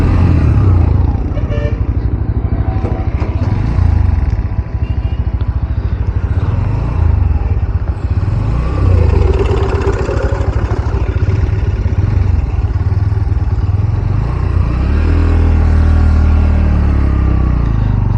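A Bajaj Pulsar NS 125 ridden along a busy high road, its mid-pitched engine droning steadily with rises as it accelerates, surrounded by the constant rumble of nearby traffic.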